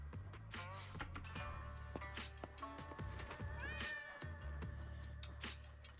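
Orange cat meowing in a story-mode video game, several close, drawn-out mews and wavering cries over a steady background of game music and soft ticking.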